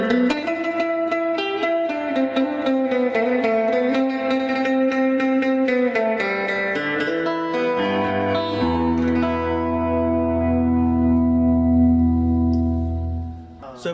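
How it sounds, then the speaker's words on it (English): A Danelectro electric guitar with split single pickups plays a classic surf tone through a simple Fender Pro Junior tube amp, bright chords and picked notes ringing with reverb before settling into a sustained, fading chord. "Definitely going to give us that quintessential classic surf sound, but with a different guitar"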